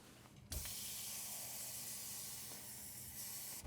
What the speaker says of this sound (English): we'll need a little bit of water, which we'll get from the tap